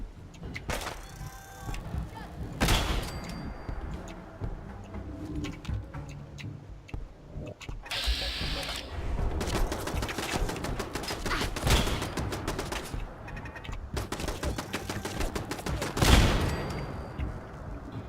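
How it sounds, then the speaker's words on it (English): A Gauss rifle in Fallout 4 charges and fires in-game, sharp loud blasts breaking through a busy mix of other gunfire, ticking and ambient game sounds. "Gauss rifle's a little bit harder to use. You have to charge up and hold it until you can fire"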